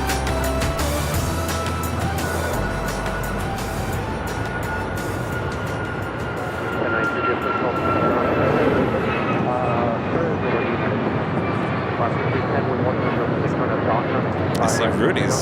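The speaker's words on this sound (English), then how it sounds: "as the next Dreamliner arrives on the north side" A Boeing 787 Dreamliner arriving on the north side runway at LAX, a loud continuous broadband engine roar that holds steady and swells slightly toward the end, with a voice talking over it.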